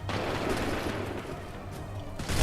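A musket volley fired on command in Assassin's Creed III, a sustained loud crackle of many shots rolling together with a low rumble, swelling again at the end.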